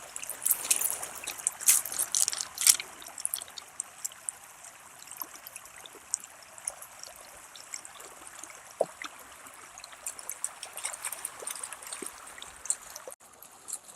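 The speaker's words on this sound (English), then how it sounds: "the river rock that gets washed around in the mountain streams here" A mountain stream runs over washed river rocks, giving a soft, steady trickle and wash of water with a few brighter splashes early on, heard alone.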